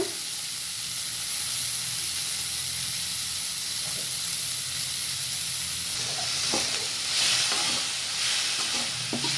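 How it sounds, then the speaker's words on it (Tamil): Tomatoes sauté in a pan for a drumstick flower stir-fry, giving a steady close sizzle and hiss of frying. Occasional scraping stir strokes come in toward the end, with no talk. "வதங்கின பிறகு தக்காளி போட்டுக்கலாம்."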